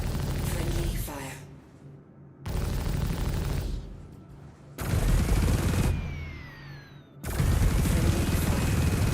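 Loud bursts of gunfire and booms in the space game Star Citizen come in three separate volleys, broken by near-silent gaps, one of them carrying a falling whistle-like tone.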